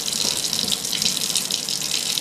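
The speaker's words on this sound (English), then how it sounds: "Now I'm just going to rinse and take apart some of the pieces of the juicer." Tap water runs steadily into a sink as juicer parts are rinsed, a continuous close splashing hiss with no talk.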